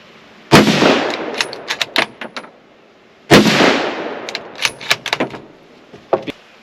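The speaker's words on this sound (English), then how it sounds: "So 2 quick shots, as quick as I can, see how well it does." Two sharp, loud rifle shots about three seconds apart during a test of a UUQ 3-9x32 AOEG rifle scope, each crack followed by a short echoing tail and small clatters, with no talking.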